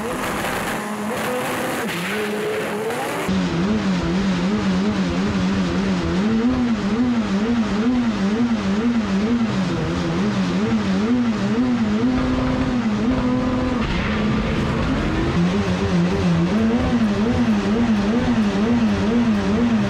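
A 1500-horsepower Honda Civic drag car idles loudly on its two-step launch limiter at a drag strip, a steady, wavering, popping engine drone that runs up close and sustained with crowd and track noise around it.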